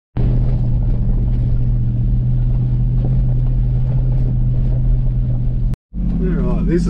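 A 4WD vehicle grinds up a steep, rocky, stepped track toward Mount Gibbo in the Victorian High Country, its engine a loud steady low rumble that cuts out briefly near the end, with a voice talking afterward.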